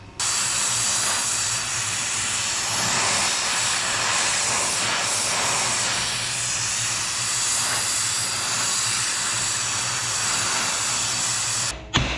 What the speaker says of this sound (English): So I'm going to get the torch and we're going to warm that up.